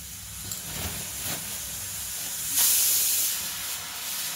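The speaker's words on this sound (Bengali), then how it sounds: "আর মা প্রেসারে আলু সিটি বসিয়েছে" Steam hisses from a pressure cooker of potatoes on a home stove, a steady airy rush that jumps to a louder, brighter jet partway through and then holds, with no talking.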